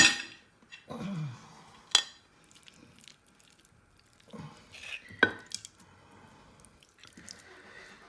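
A soft thud and splash as meat drops into a pot for aspic, among scattered kitchen clatter and clinks, with quiet gaps between.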